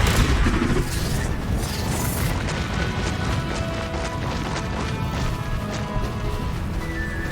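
A Confringo blasting spell in the Hogwarts Legacy video game bursts into a loud crashing explosion, followed by a dense, sustained roar of rumbling debris and effects.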